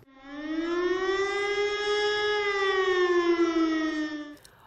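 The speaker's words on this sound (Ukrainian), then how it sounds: "Громадяни, повітряна тривога, повітряна тривога." Civil defense air raid siren in Ternopil, a single loud sustained wail that rises slightly, holds and then cuts off.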